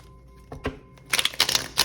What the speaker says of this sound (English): I'll shuffle 2 more times